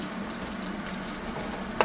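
A steady, hissing sizzle of potatoes frying in plenty of hot oil on a kitchen stove, continuous and close, with a sharp little clink near the end.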